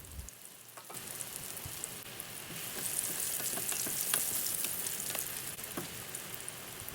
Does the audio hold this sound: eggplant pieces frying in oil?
yes